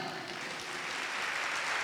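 A congregation at a pastors' seminar in Guadalupe, Mexico applauds, a faint, steady wash of clapping with no clear pauses.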